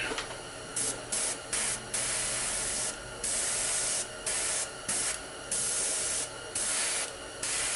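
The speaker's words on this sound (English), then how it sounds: "It wasn't spraying right, but I had my pressure turned way down." An airbrush at low pressure sprays paint onto a Cthulhu Death May Die miniature in steady hissing bursts, about a dozen pulses of near, even air noise separated by short pauses.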